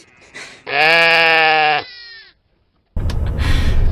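A lamb on a farm near Eskişehir gives a loud, close, sustained bleat lasting about a second. Quieter rustling comes before it, and after a short silence a burst of broad noise follows.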